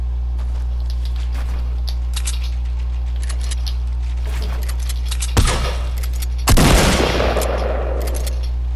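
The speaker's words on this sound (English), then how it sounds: "Is that you shooting this now?" Video game gunfire sounds in two bursts over a steady low hum, first a short crack and then a louder, longer volley of rapid shots fading away.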